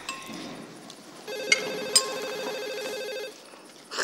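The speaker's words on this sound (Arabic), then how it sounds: "تليفون" A telephone rings with an electronic warbling ringtone of about two seconds over a quiet background, broken by a few sharp clicks.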